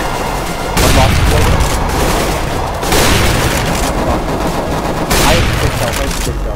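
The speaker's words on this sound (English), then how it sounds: "Throwing a grenade!" Loud video game gunfire with grenade blasts from a Counter-Strike match, three heavy bursts of rapid shots and booms rolling one after another, dense and close across the whole stretch.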